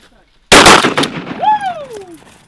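A loud shotgun blast on a duck hunt bursts out suddenly after brief silence and then decays, followed by a voice whooping loudly at close range.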